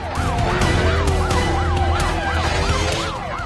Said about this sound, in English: The sirens are getting louder.